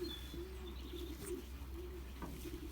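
A Belgian racing pigeon with grizzle pattern coos softly and repeatedly in a steady low rhythm, close but quiet, with faint chirps from other birds in the background.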